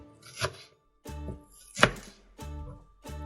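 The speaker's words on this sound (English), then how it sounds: "And I'm just going to cut into some little chunks, or slices" A knife cuts a peeled onion into chunks on a board, giving four or five separate firm chopping strokes at an uneven, unhurried pace. The strokes are close and distinct with short quiet gaps between them, and no one speaks.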